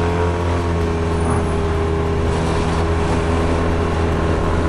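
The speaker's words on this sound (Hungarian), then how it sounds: "Nagyon kis morgós hangja van a 600-as kéthengeres blokknak" A Honda SW-T600 scooter's 600cc two-cylinder engine idles steadily nearby, giving a low, continuous rumble with strong low harmonics and no pauses.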